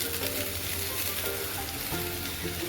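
Jaggery sizzles and fries steadily in a hot pan, a close, continuous crackle with faint stirring, alone without talk, while making a sweet raw-mango preserve.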